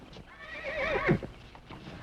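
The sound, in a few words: horses neighing and hooves clip-clopping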